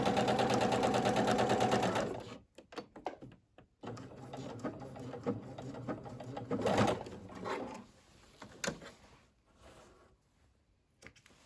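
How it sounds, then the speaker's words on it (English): A sewing machine stitching a straight line across the corner of a tote bag, running in a fast steady whir for about two seconds, then stopping and restarting in short bursts, close and fairly quiet. "Then sew a straight line across the pyramid, being sure to tack down at beginning and ending"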